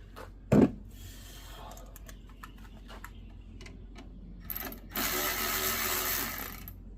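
Ratchet working 10mm bolts off the alternator of a 2009 Toyota Camry, a faint close run of small ticking clicks after a single sharp knock, ending in a louder sustained rasping whirr.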